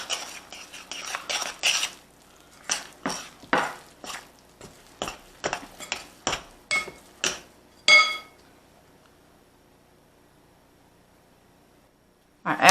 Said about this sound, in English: we're just going to stir that till it makes a shaggy